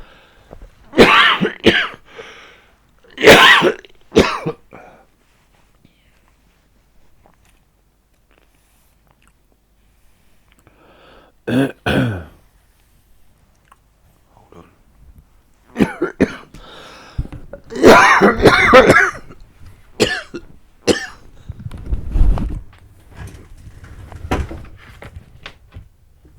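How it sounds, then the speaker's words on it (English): Several sharp coughs and throat clearings at irregular intervals, close to the microphone, during a walk in Southwark, London, with a brief spoken phrase and quiet pauses between bursts. "Sorry, I've got a little cough."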